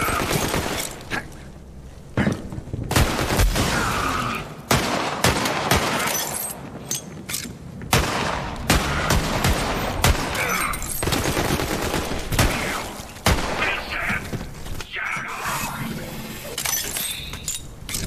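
Gunfire in the video game Borderlands 3, sustained bursts of automatic fire and sharp single shots mixed with shattering impacts and explosions, loud and close, nearly continuous with brief gaps.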